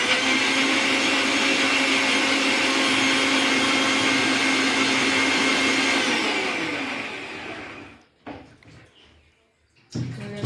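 A kitchen mixer grinder runs loud and steady, blending onion to a paste, then cuts off near the end, leaving brief clatter and silence.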